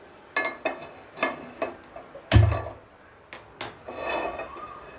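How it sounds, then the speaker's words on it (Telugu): Metal pan set down on a kitchen stove while cooking mamidikaya chitranam, with a series of light clinks and taps followed by one sharp heavy clank and a few more knocks, close and clear. "ప్యాన్ పెట్టుకొని స్టవ్ ఆన్ చేసుకోవాలి."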